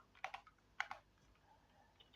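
Quiet, close keystrokes on a computer keyboard as a python command is typed into a terminal, coming in a few short clusters of two or three clicks separated by pauses.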